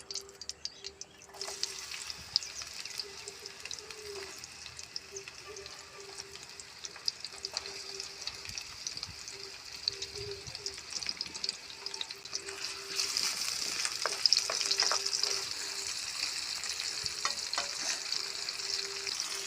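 Onions sizzle in hot biryani oil with a steady, moderate frying hiss and occasional spatula clicks, growing louder and brighter in the last few seconds; no voices.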